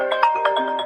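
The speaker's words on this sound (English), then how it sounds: "I forgot to turn off my phone." A mobile phone ringtone goes off indoors, a short bright electronic melody of rhythmic tones, clear and fairly loud with no talking.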